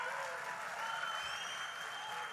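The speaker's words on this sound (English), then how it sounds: "That was a crowd." A large audience cheers and claps at a legislative conference for county officials where Trump is speaking, a dense, steady wash of applause and crowd noise lasting throughout.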